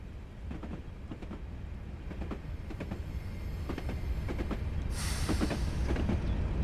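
Train brakes applying on a locomotive running the West Highland Line in Train Simulator, a steady rolling rumble with rhythmic rail clicks that builds gradually, then a bright hissing brake release near the end, with no talk.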